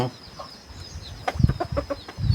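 A small-sized decoy rooster calling close by: a few quiet clucks, then a louder burst of rapid crowing and clucking notes over faint background hiss.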